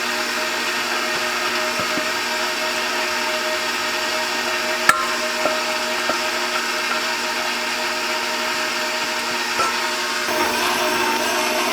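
Stand mixer working dinner roll dough on low speed, a steady even motor whir with faint occasional knocks and clicks, constant and moderately close.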